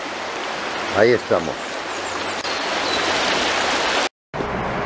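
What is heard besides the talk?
small mountain streams with water falling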